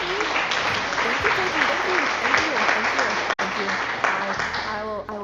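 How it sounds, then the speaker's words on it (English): Applause and clapping roll on steadily through a live stream, a dense wash of many hands with cheering voices mixed in, loud and continuous until it thins out near the end. "I will gladly accept your applause."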